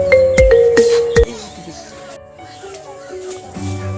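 A mobile phone rings during lockdown with a short run of bright, tonal ringtone beeps in the first second or so. Voices and background noise follow.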